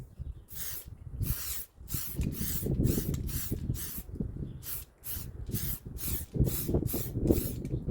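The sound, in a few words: spray painting third coat on Geo Tracker back hatch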